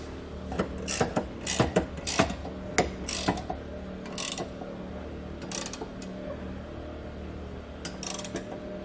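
A trailer hitch bolt on a car is tightened with a ratchet, giving bursts of quick metallic clicking in uneven runs with short pauses, close and moderately loud.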